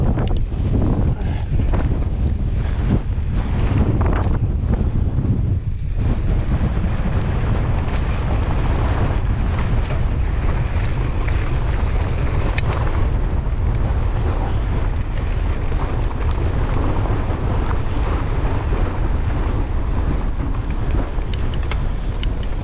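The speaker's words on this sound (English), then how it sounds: "Wind is insane." Strong wind roaring and buffeting across the microphone during a wet mountain bike ride on Derwent Edge, a loud, steady rush of gusts that fills the whole stretch with no speech.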